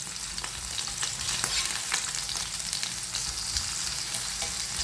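A burger meat patty fries in a pan with a steady, close sizzle and crackle, with occasional sharper pops and no voices.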